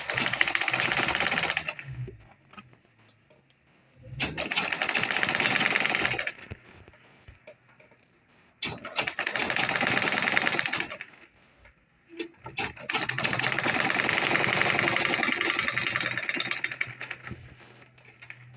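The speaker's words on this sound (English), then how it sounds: "So it's going to give me a perfect this type of sewing is called" A sewing machine runs in four steady bursts, top stitching a jumbo tote bag, with brief pauses between runs and a close, even mechanical whir throughout.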